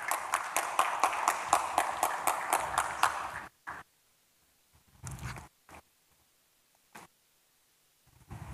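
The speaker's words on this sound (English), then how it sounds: "Can we give them all a round of applause" Audience applauding panel members at a human rights forum session: brisk, rhythmic clapping for about three seconds, then stopping abruptly, leaving a few isolated knocks and rustles in near silence.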